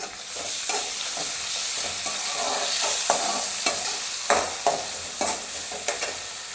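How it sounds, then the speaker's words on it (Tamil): Onions and cut tomatoes sautéing in a pan for a bitter gourd dish, with a steady close sizzle broken by repeated spatula scrapes and knocks that grow more frequent toward the end. "அதுக்கப்புறம் கட் பண்ண தக்காளி போட்டு வதக்கிக்கணும்"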